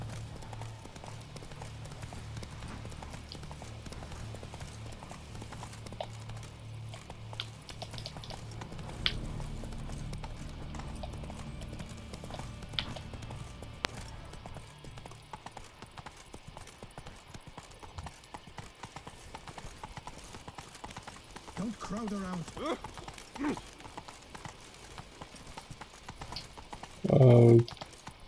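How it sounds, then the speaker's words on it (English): Horse hooves clip-clop at a steady riding pace in The Witcher 3: Wild Hunt, low and fairly faint under game ambience, with someone talking over parts of it and brief louder effects near the end. "I take my horse and hope it's not that long of a ride to there."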